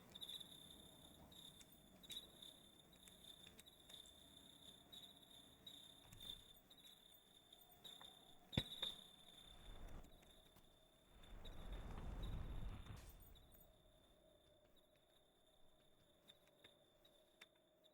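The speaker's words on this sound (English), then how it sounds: "I didn't realize how loud the crickets are outside." Crickets chirp steadily outdoors in a dense, continuous high-pitched trill that runs throughout, with a brief low rumble partway through.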